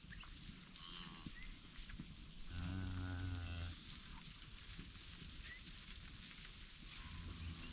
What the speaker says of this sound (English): There's two red cows ruined it all, and all the calves ran outside